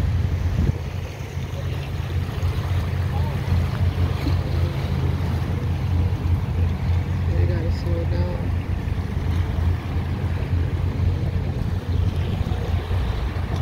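Boat ride on open water near Governor's Island, with a steady low engine drone, wind buffeting the microphone and a constant wash of water throughout.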